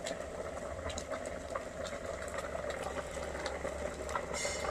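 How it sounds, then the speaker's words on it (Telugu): Milk boiling vigorously in a pot over a cow-dung cake fire for a Surya Jayanti prasadam offering, a continuous bubbling, frothing rumble with crackling, steady throughout and fairly close. "పాలు 3 సార్లు పొంగించాక"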